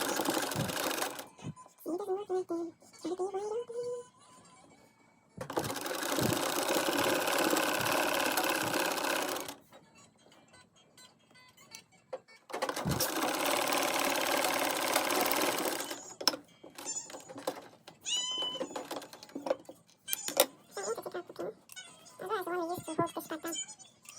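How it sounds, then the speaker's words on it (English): A sewing machine runs in two long, steady bursts while a sundress seam is stitched from the midpoint downward, separated by quiet handling pauses and interspersed with short clicks and fabric rustles. "we're going to start stitching this from that midpoint area all the way down"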